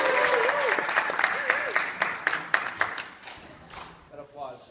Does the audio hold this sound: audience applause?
yes